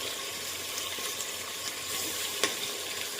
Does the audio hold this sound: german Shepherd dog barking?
no